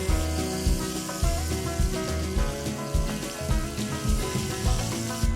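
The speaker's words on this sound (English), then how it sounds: "And toss in your mushrooms, and these are all from local farms here in Lancaster. And just saute these until they are nice and softened." Mushrooms from local Lancaster farms sautéing in a pan for bacon mushroom pork chops, a close, uneven sizzle with repeated bursts and clatter as they are tossed and stirred, with no talk.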